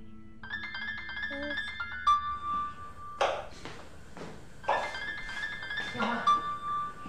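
A phone ringtone plays a bright electronic melody of repeating tones in an urban drama scene. Soft thumps and short voice-like sounds break in over the ringing.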